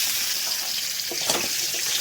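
Taki fish frying in hot oil until crisp, a steady close sizzle and crackle with a few brief louder spatters.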